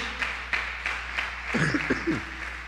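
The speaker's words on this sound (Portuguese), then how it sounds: "Dá um aplauso aí, pelo amor de Jesus." A church congregation applauds during a sermon, scattered claps and light applause under a continuous low hum, with a voice briefly speaking over it partway through.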